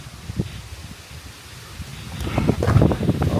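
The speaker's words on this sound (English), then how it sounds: "Oh, it's very windy." Gusty wind buffets the microphone, rising into louder rumbling gusts toward the end with some rustling.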